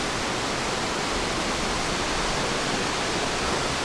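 Water pours steadily over a waterfall in a canyon in the western Black Sea region of Turkey, a loud, even, broadband rush that fills the whole moment without a break and with no voices.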